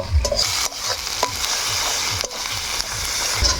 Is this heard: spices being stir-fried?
yes